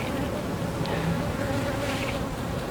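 Honey bees buzzing at an open hive, a steady close drone of many insects with brief louder passes of individual bees, no talk.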